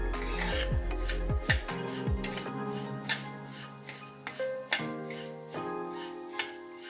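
Split moong dal dry-roasting in a metal pan, stirred with a spoon: close, repeated scraping and sharp clinks against the pan at an uneven rhythm, with no talking.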